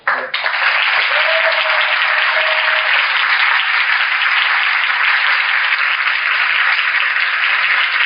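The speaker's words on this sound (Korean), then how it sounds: "세 분이 일어나면 여러분들이 환영의 박수를 좀 부탁드립니다" An audience at a lecture at the Korea Military Academy applauds to welcome guests, with dense, loud, sustained clapping that fills the whole stretch without letting up.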